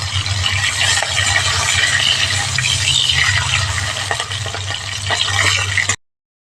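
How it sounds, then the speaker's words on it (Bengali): Loud, continuous sizzling and crackling of fish frying in hot mustard oil, close up, with a low hum underneath, cutting off abruptly near the end. "সর্ষের তেল গরম করে নিয়েছি মাছটা প্রথমে ভেজে নিচ্ছি"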